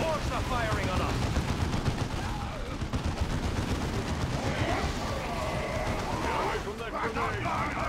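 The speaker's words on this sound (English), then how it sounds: "Get orcs are firing on us!" Rapid gunfire crackles through a Dawn of War II battle, with dense bursts of shots layered continuously over shouting voices and battlefield noise.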